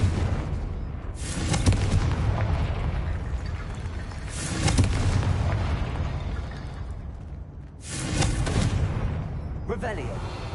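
Three loud, broad explosive blasts from the Confringo fire spell in the Hogwarts Legacy video game, spaced a few seconds apart, each followed by a rumbling decay over a steady background bed.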